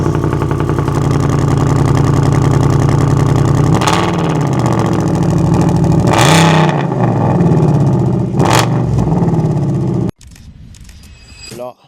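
A motorcycle engine cold-starts and runs loud and close, a steady idle with several sharp revving surges before cutting out abruptly near the end, followed by faint background noise; voices are heard briefly.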